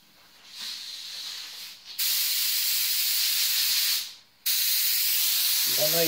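An aerosol can sprays a base coat onto a plaque in long steady hissing bursts, close by, with a short pause between bursts and no talking.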